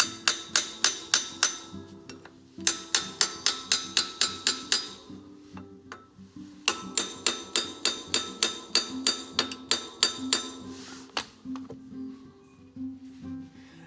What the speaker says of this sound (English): tap it gently to tighten it the rest of the way